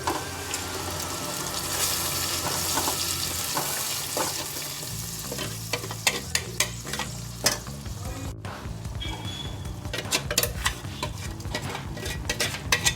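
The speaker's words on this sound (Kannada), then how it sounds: "ಇವಾಗ ಆವಾಗ ರುಬ್ಬಿರೋದ್ವಲ್ಲ ಮಸಾಲೆ ಎಲ್ಲ ಡ್ರೈ ರೋಸ್ಟ್ ಮಾಡಿ ಅದನ್ನು ಸೇರಿಸ್ಕೊತಾ ಇದ್ದೀನಿ" Dry-roasted ground masala stirred into frying onions for ripe mango gojju: continuous close sizzling with repeated scraping and clinking of a spoon against the pan, no voices.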